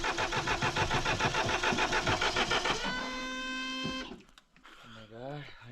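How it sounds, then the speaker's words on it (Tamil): A Mahindra Thar engine cranks repeatedly with a rapid, rhythmic churning for about three seconds without catching, then a steady whine follows before voices talk at the end. "வண்டி ஸ்டார்ட் ஆக மாட்டேங்குதா?"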